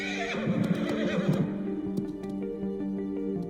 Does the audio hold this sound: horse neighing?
yes